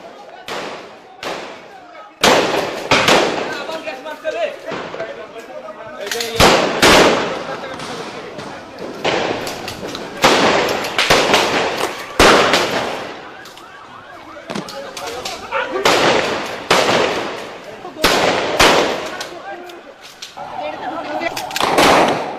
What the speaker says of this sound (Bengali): হাজার হাজার রাউন্ড গুলি, টিয়ার শেল, গ্রেনেডের মুহুর্মুহু শব্দে প্রকম্পিত হয়ে ওঠে রাতের মতিঝিল